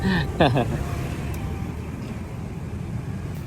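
Steady road traffic rumble fills the scene, a continuous low roar of passing vehicles on a street while a voice speaks briefly at the start.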